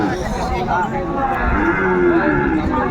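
Sahiwal cattle and calves at a livestock market low repeatedly, drawn-out moos rising over a constant murmur of crowd chatter and people talking nearby.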